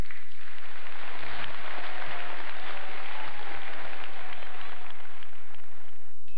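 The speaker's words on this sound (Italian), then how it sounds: "Un applauso per loro." Audience at the Il Talentino Show 2012 talent show applauds the performers, loud, dense clapping carrying on steadily and then easing off near the end.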